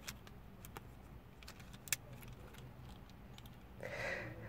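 Flip key of a 2014 Kia Rio LX, producing a few small close clicks and faint jangling of keys, a sharper snap in the middle, with a brief rustle near the end.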